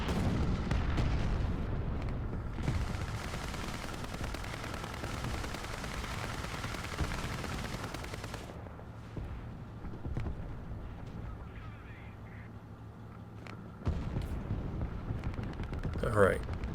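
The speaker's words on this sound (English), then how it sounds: "Drop some arty." Artillery strikes in War Thunder land during a Type 5 Chi-Ri II medium tank match, heavy booming impacts and rumbling explosions over several seconds with engine noise beneath, then a sudden loud blast near the end.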